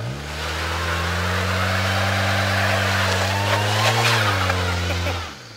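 A car engine roars in a sustained high-rev hold during a burnout, loud and close throughout, with tire squeal and a brief swell near the end before cutting off.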